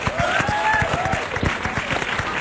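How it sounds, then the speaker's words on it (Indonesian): An audience at a stand-up comedy show applauds, with dense clapping and some whoops from the crowd, loud and close, carrying steadily throughout. "Tepuk tangan buat mereka semua hari ini."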